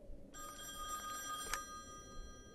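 A telephone rings steadily in The Wolf Among Us video game, a continuous bright electronic bell tone that begins after a brief quiet moment and holds without pause.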